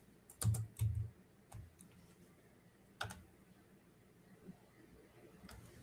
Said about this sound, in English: you should be able to start typing in a casino